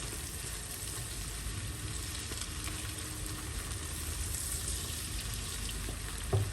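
Margarine sizzles on browned minced meat cooked in tail fat, a soft, steady frying hiss that stays fairly quiet and even throughout, ending with a small clink, with no voices.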